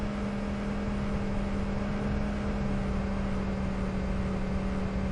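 A steady engine drone with a constant tonal hum, sustained at high revs without change, a car cruising at speed in the racing game TORCS.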